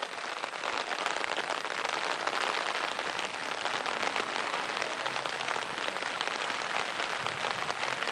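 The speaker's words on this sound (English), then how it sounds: "we have a heavy rain" Heavy rain pours down at an outdoor high school baseball game, a dense, steady hiss of drops that stays even and continuous throughout, with no voices.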